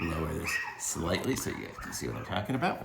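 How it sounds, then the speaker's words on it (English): Dogs bark and yip in short bursts while a person keeps talking close by. "sorry about the dogs barking"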